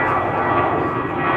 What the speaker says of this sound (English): BA to London Heathrow.